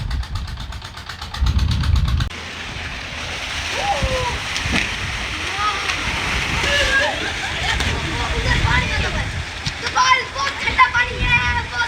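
Water sloshes and splashes continuously in an outdoor tubewell tank as people bathe, with a low engine-like hum underneath and voices calling out over the churning water.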